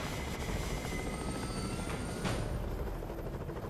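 A helicopter flies in the video game Stranglehold, its steady, loud rotor and engine roar filling the whole stretch without pause and with no talk.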